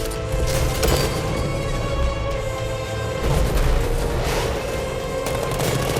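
Heavy booming 60mm tank cannon fire in Batman: Arkham Knight, with loud, dense blasts and rumbling over a constant mechanical drone, continuous throughout like a game battle scene.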